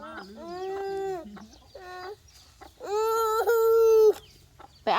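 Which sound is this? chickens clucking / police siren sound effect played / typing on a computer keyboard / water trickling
chickens clucking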